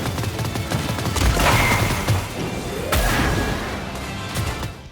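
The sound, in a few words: bouncing beauties detonating in the video game Rocket Arena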